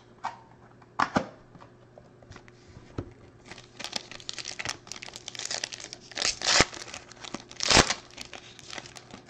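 A 2020 Panini Obsidian Football card box and pack being opened by hand: scattered crinkles, tearing and crunching of cardboard and foil wrapper, with louder bursts near the end.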